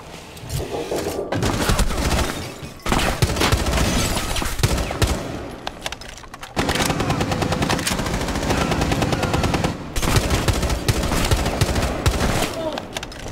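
Rapid automatic gunfire in Rainbow Six Siege, loud and nearly continuous bursts with a few short pauses, dense layered shots up close.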